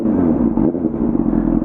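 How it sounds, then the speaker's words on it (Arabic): A motorbike engine running steadily up close, its note altered from normal, with a dense low rumble that holds without pause and no talk over it. "الصوت ديال الموتور، النغمه ديال الموتور تبدلات"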